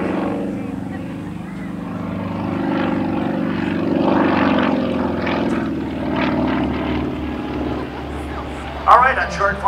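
A Sukhoi SU26M aerobatic plane flies through a demonstration routine at an airshow in Geneseo, New York, its propeller engine droning steadily and fairly loud from start to finish while an announcer talks over it.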